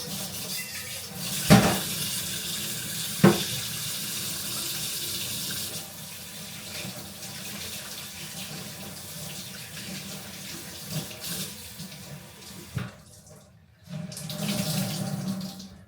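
A kitchen sink tap runs steadily while hands are washed beneath it, with a couple of sharp knocks against the basin and a brief pause before the flow resumes near the end.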